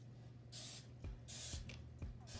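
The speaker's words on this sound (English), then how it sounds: "Now I got my loaf pan and I'm just gonna spray it." Cooking spray is sprayed into a loaf pan in three short hissing bursts, close and clear against a quiet kitchen background.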